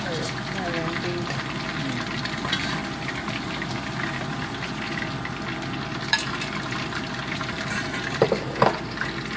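Chicken pieces being deep-fried a second time in a wok fill the scene with a steady, dense crackling sizzle, broken by a few sharper pops and clinks near the end.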